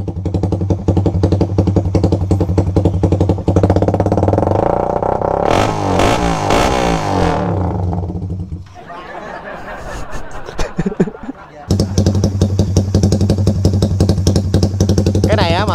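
Suzuki Raider motorcycle with a loud aftermarket exhaust, its engine rumbling and revving steadily throughout, briefly dropping lower mid-clip before returning at full loudness; laughter and people talking are mixed in.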